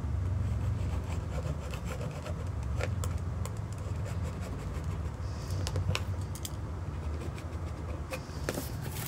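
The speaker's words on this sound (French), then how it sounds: "On prend sa petite règle japonaise et je trace mon trait de couture." Marking a seam line on fabric with a small Japanese ruler while sewing a drawstring collar: continuous soft scratchy rubbing with scattered light taps and ticks, close and steady, no speech.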